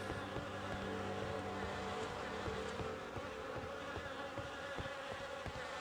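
Flies and mosquitoes buzz continuously in The Fidelio Incident video game, a dense, steady drone of insects close around, with no voices.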